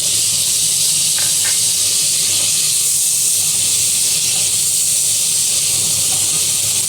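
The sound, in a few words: soy sauce sizzling as it is added to frying chicken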